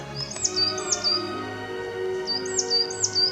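Small birds chirp in a Carpathian mountain forest near Vorokhta, sharp high tweets repeating in short bursts at the start and again near the end, fairly close and clear over a quiet outdoor background.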